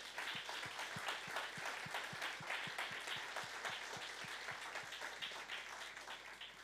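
A church congregation applauds the name of Jesus in a steady, dense wash of clapping, with a regular low beat of rhythmic claps running through it, continuous and fairly loud from start to finish.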